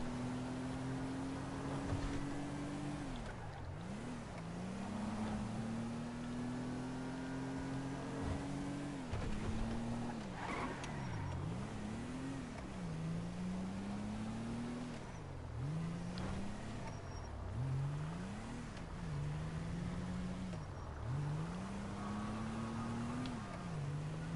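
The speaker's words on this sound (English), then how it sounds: "This is one of the Los Santos buses." A Los Santos bus in a video game drives along with a steady engine drone, its pitch dipping and rising repeatedly as it shifts and accelerates, continuous and fairly close throughout.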